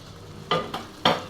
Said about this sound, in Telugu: ఇప్పుడు ఇందులో మనం శుభ్రం చేసుకొని పెట్టుకున్న రొయ్యల్ని యాడ్ చేసుకుందాం